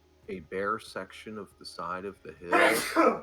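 A single loud, breathy sneeze bursts out right after a stretch of close conversational speech during a tabletop game session.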